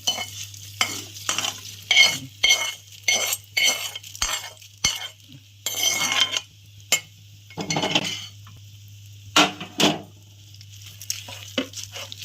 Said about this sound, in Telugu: దీన్ని తాలింపు వేసుకుని